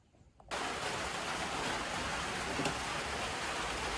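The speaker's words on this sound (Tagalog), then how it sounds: "Medyo ni kusog-kusog na ang ulan." Steady heavy rain begins abruptly and keeps up as a dense, loud, continuous hiss of rainfall, with no talking.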